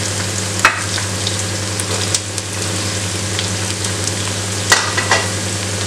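Carrot and other vegetables sautéing in a hot pan for Kerala-style cabbage rice: a loud, continuous sizzle with a few faint stirring clicks scattered through it.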